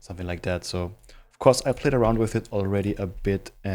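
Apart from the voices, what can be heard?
No distinct noise like a dog, phone or traffic.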